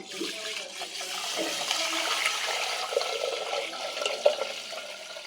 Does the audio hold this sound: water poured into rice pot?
yes